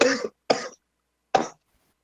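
Three short, dry coughs in quick succession, close and fairly loud, as someone imitates coughing from breathing sand in an abandoned canyon town; a voice performs the sound.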